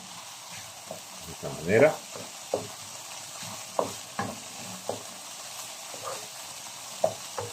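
Red ají panca pepper paste sautéing in a pan for a stuffed Christmas turkey, a steady low sizzle broken by the clack and scrape of stirring, with a voice talking briefly over it.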